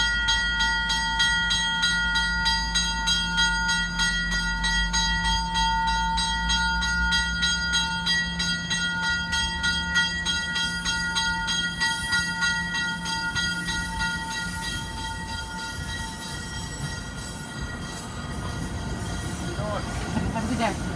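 Two MBTA Commuter Rail trains at East Weymouth station in Massachusetts, with a loud, sustained rumble, steady tonal whine and rhythmic wheel clatter, later easing into mixed rattling and squealing as the trains move through.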